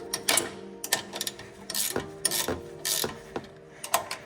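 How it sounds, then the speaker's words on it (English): A ratchet wrench works the strut nuts on a Toyota Prado KZJ90 during a lift kit install, making close, rhythmic clicking bursts and metallic ratcheting strokes over a few seconds. "you're going to remove all 3 of these nuts so that you can completely remove the strut"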